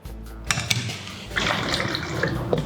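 Water splashes and pours steadily into a container, with a couple of small clinks at the start.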